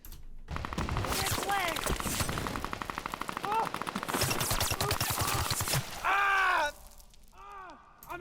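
Rapid gunfire with sharp bullet-hit cracks in an action movie shootout, bursts rattling loudly across the scene, with a few groans and shouted voices breaking through near the end.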